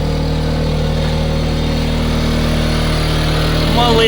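A GTM 1.8 kW inverter generator runs close by, a loud, steady engine hum with a constant tonal drone that holds evenly throughout without pause.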